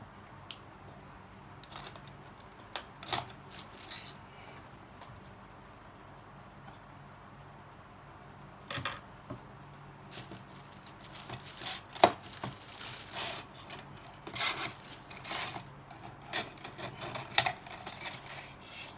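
A hand file works along the edge of a Thai amulet, giving faint, scattered rasping strokes that come in short clusters with quiet gaps, close and soft with no talk.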